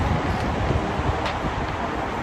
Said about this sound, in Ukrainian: Тут нереально холодно і тут дуже вітряно.